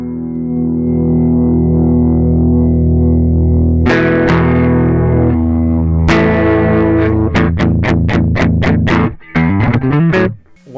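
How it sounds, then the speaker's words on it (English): Notes pass through a broken, distorting digital compressor with the gain turned up. Thick, fuzzy sustained tones give way to a quick run of sharp, loud, distorted plucked notes, with no voices. "as I turn up the gain, we are going to hear a certain amount of noise here"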